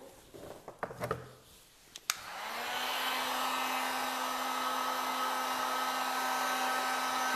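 A few clicks and handling knocks, then a hair dryer switches on and blows steadily with a constant whine, drying freshly painted tile-pattern design on a kitchen cabinet door, close and alone without speech.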